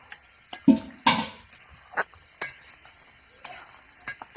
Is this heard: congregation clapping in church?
no